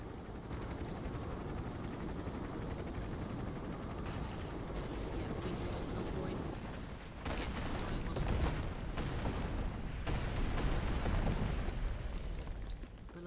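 Airstrike explosions in the Avatar video game rumble as a dense, continuous roar of blasts and debris, swelling louder in the second half with sharper cracks scattered throughout.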